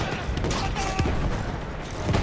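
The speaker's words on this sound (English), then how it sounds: "we're getting shot at" Bursts of video game gunfire crackle in a busy farm-themed game, short rapid shots over a dense background, with a player talking between them.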